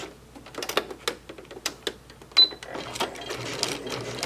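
A sewing machine back tacks while stitching a foundation paper-pieced tulip potholder, giving short bursts of quick, ticking needle strokes with brief pauses between runs, close and moderately loud.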